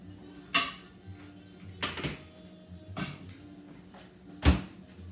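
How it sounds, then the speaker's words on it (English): Food goes into a microwave for a rice setting, with a few sharp clatters of a dish set down and the door handled, several separate knocks spread over a few seconds against a quiet kitchen. "It's going in the microwave."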